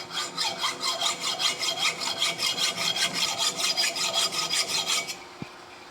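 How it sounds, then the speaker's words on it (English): A hacksaw cuts through a steel cross feed screw for a Lion lathe restoration, making a steady rasping back-and-forth rhythm of roughly twenty close, loud strokes. The strokes stop abruptly near the end, followed by a single small click. "We'll take a hacksaw, cut it off"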